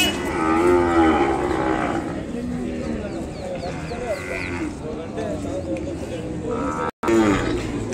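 Ongole cattle at a busy livestock market moo with long, low, drawn-out calls amid crowd noise, while people talk nearby throughout.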